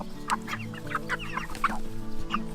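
Chickens cluck in a steady run of short, close calls in a hot coop, with several birds overlapping and no talking.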